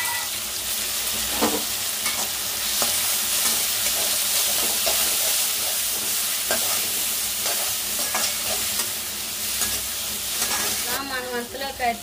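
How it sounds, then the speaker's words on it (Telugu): Tomatoes fry in a hot pan with a steady, bright sizzle, broken by repeated scraping stirs of a spoon against the metal; a few brief voice-like sounds come near the end. "టమాటాలు కూడా వేసి కొంచెం మొత్తం ఫ్రై చేసుకోవాలి."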